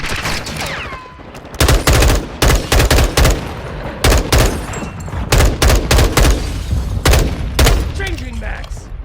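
Very loud rapid gunfire bursts from weapons in a multiplayer shooter game beta, sharp repeated volleys and fusillades pounding in quick succession after a brief quieter lull, with game voice callouts mixed in.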